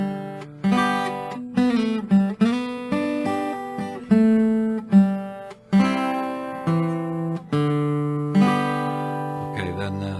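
Gospel guitar solo phrase from Amazing Grace, a run of plucked, sustained notes and slides played alone at moderate volume, each note ringing with clear harmonics before the next is picked.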